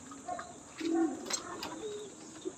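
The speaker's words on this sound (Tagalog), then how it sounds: "Napakagandang ibon yan." Pigeons cooing nearby, a few soft low coos and a short warbling call in quick succession, fairly close but quiet.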